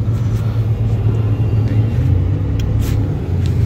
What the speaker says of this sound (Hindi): बहुत ज़्यादा ट्रैफिक।